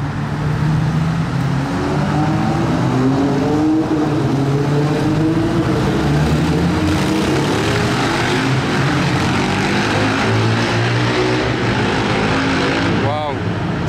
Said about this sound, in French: Oh, 812 Competizione Aperta.